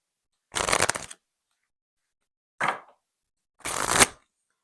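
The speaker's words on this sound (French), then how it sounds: "On va prendre quelques cartes ici." Oracle cards shuffled in three short, crisp bursts, a longer riffle first, then a brief flick and a final riffle, close by with silence between.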